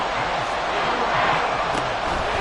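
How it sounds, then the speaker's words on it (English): A dense, steady roar from the crowd at Arrowhead Stadium in a Chiefs football video game, a broad wash of cheering that holds level throughout with no single voices standing out. "The Arrowhead crowd in full roar."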